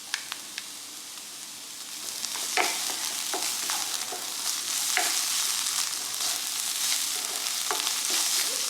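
Onion and minced garlic fry in a pan, a continuous close sizzle that builds slightly over time, punctuated by sharp scrapes and taps from a stirring utensil, with no voices.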